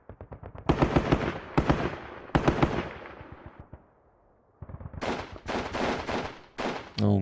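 Sustained bursts of suppressing gunfire aimed at an enemy gun position in the wargame Squad Battles Eagles Strike, loud rapid volleys with a brief lull before firing resumes in clustered bursts.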